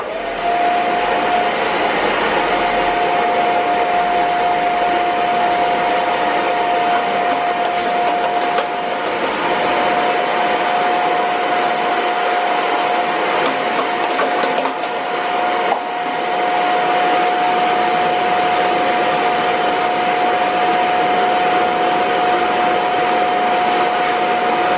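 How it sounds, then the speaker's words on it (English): A vacuum cleaner hoovers the air filter of a Fiat Punto, a loud, steady whining roar with a constant high tone that runs the whole time without pause. "I'm just going to give it a quick hoover though, obviously just to get some fine dust particles out of it"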